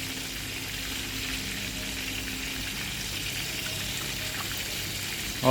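Garlic chicken tenders fry crisp in hot oil, giving a steady, close, even sizzle and bubbling hiss that runs without a break and rises slightly at the very end, with no voices.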